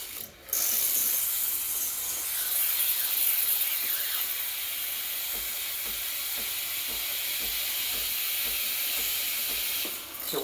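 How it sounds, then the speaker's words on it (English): A Breville Barista Express BES870 espresso machine steam wand hisses loudly and steadily for several seconds, with a faint rhythmic ticking of the pump beneath the hiss. "So turn on the steamer."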